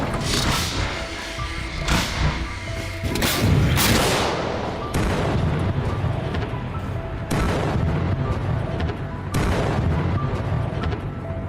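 A CAESAR self-propelled howitzer fires in Ukraine: several heavy booms spaced a couple of seconds apart, each trailing off into a rumbling echo over steady background noise, with no voices.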